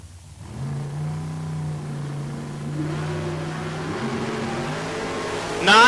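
Mopar and Ford drag race cars roar down the strip at a drag racing event, a loud sustained engine drone whose pitch climbs steadily, ending in a sharp louder burst.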